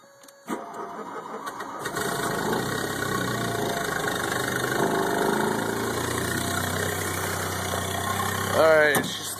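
A 1986 VW Cabriolet with 115,000 miles cranks briefly and starts, then settles into a steady near idle with a slight knocking character, the engine rising a little near the end, and voices talking over it.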